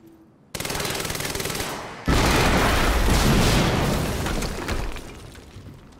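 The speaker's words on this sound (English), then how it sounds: "we just heard an explosion near the harvesting perimeter" A sudden loud blast followed by a sustained roaring burst of gunfire and explosions in the video game Quantum Break, dense and close, fading slightly at the end.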